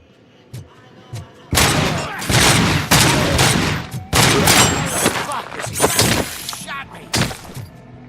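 Heavy gunfire from the RoboCop video game, dense loud bursts and rapid fusillades with sharp impacts, broken by short pauses, with voices shouting between the shots.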